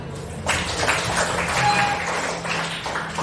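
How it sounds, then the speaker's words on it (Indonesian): A school class claps together during a geometry lesson on cubes and cuboids, a sudden burst of many hands that carries on steadily for a few seconds at moderate loudness. "Tepuk tangan"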